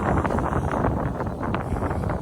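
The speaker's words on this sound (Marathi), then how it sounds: "वारा पण मस्त थंडगार सुटला असंच" Steady, rushing cool wind buffets the microphone throughout, a broad continuous roar with no voices, under an overcast sky in a village near Dapoli, Konkan.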